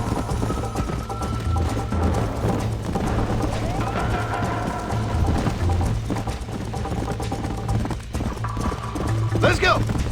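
Horse hooves clip-clop at a steady galloping rhythm in the Western game Red Dead Redemption, close and continuous, with a brief whinny near the end and voices talking over the hoofbeats.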